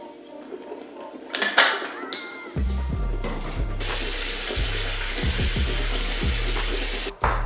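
Mouthwash poured from a bottle into a cup in a bathroom during a morning routine, a steady close liquid stream lasting several seconds after some brief handling clicks.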